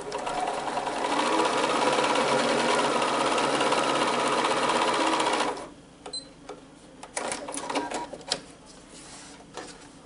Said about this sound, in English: Now I'm ready to come underneath and sew on the second line.